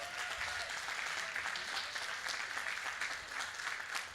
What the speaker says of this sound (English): Can we have a round of applause for all the volunteers?